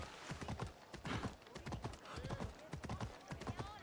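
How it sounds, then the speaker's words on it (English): Hooves beat in a quick, rhythmic clip-clop as a horse gallops in Assassin's Creed Odyssey, loud and close, with a brief whinny-like sound mixed in. "I'm gonna steal a horse."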